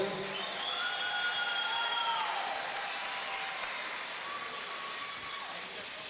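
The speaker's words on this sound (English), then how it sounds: "a huge round of applause to our high school band" Crowd cheering and applauding at a high school welcome-back event for the school band, a broad sustained roar with whistles and shouts, moderately distant and steady throughout.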